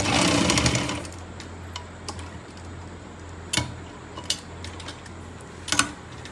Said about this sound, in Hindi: और हम यहाँ पे सिलाई लगाएंगे